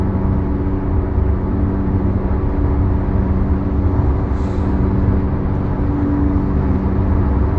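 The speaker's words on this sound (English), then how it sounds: "Traffic is clearing up" Road traffic rumbles steadily with a loud low engine drone, as if heard from inside or beside a vehicle, with a faint hiss of air brakes partway through and no talking.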